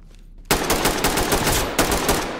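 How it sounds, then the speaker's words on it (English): Rapid automatic gunfire from the video game Ready or Not rattles loudly in continuous bursts after a brief quiet start, dense and close with no talking. "He shot off one bullet and it hurt"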